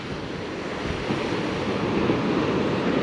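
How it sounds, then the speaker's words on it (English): Ocean waves wash and crash over rocks at the ruins of Sutro Baths in San Francisco, a broad, continuous roar of surf mixed with wind buffeting, loud and steady with no voices. "The waves would crash over the rocks, fill it up."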